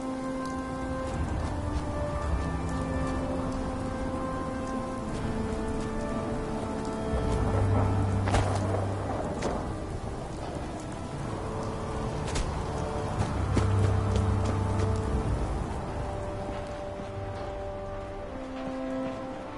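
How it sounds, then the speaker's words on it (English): Steady rain pours down in a Fallout 4 game scene, a constant even hiss of drops on surfaces that swells gently twice, with no voices and only low background tones underneath. "This rain lets up soon."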